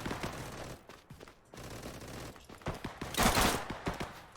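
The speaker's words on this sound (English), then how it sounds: "The gun actually sounds pretty good." Gunfire from the shooter game Operation: Harsh Doorstop crackles in several quick bursts and single shots, fairly loud and near, with no talk over it.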